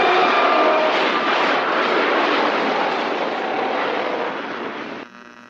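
Aircraft engines failing as a radio drama sound effect: a loud, steady, dense engine roar that slowly fades and then drops away abruptly near the end.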